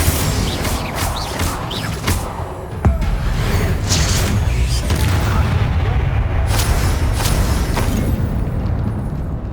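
Bombarda spell explosion in the Hogwarts Legacy video game, a loud booming blast amid dense, rumbling battle noise that continues for several seconds, with a brief voice mixed in.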